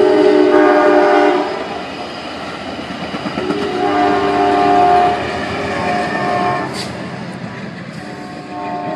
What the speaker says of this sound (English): we caught various Amtrak trains passing the cars in the Ypsilanti yard.